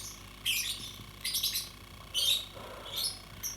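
A lovebird gives sharp, loud chirps and squawks close by in four separate bursts, with quiet gaps between them and no talking.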